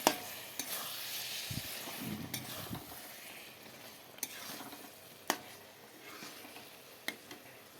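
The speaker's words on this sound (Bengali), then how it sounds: "মাছগুলো দিয়ে কিছু সময় কষিয়ে নেব" Katla fish pieces frying with spices in a pan, a steady soft sizzle broken by occasional sharp scrapes and taps of a spatula stirring, close and clear with no voices.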